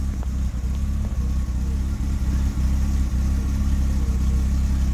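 Jaguar 4.2 litre late Series engine with new electronic ignition idling steadily at about 650 RPM after a cold start, a loud continuous low rumble with faint ticking, heard close up and alone without talk.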